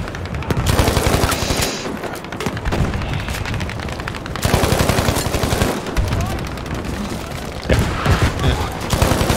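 Rifle grenades and gunfire in the Battlefield V video game, with dense bursts of rapid automatic fire and booming explosions in loud clustered waves, at times mixed with a talking voice.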